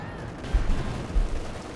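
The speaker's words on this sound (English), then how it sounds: "Section has been bombarded by the Panther 4" A Panther tank shells an infantry section in the Company of Heroes 2 video game, with two deep, booming impacts about half a second apart rolling through steady battlefield noise.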